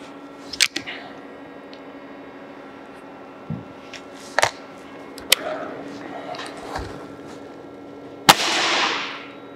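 A Nitro X air rifle fires pellets in a few sharp, short cracks spread across the clip, each a sudden snap against quiet background, with a louder burst of noise near the end.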